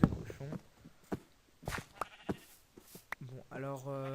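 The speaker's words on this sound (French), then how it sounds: "Donc ce qui est bien c'est qu'il y a des moutons à côté," Sheep bleat in the Minecraft video game, short game-style cries scattered through the clip, with a longer bleat near the end, alongside someone speaking French.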